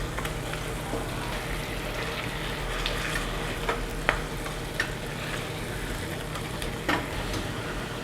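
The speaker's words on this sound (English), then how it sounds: "I'm going to have the lid open because I want this to braise and the liquid should evaporate." Korean spicy braised tofu simmers in an open, uncovered pan over medium-high heat, giving a steady soft sizzle and bubbling with a few faint clinks of stirring.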